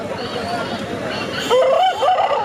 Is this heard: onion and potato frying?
no